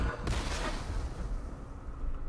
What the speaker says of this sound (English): Then our mortars.